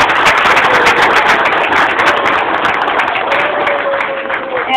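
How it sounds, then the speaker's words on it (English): Sustained applause from an audience at a fourth-grade honor roll awards ceremony, dense and steady throughout before thinning slightly near the end. "let's start by giving our fourth graders a great big round of applause."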